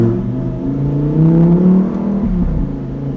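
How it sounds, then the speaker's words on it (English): A car engine hums and revs steadily up close, with a low rumbling drone that swells in the middle and eases slightly toward the end. "I love the way people look at you when you drive by in a car like this"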